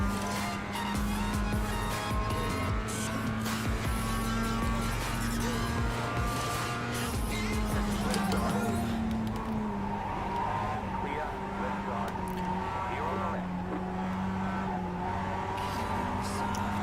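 Racing cars in the iRacing simulator, including Mazda MX-5s, drone along a track. Engine tones rise and fall continuously through a corner with some tire squeal, with a voice talking over them.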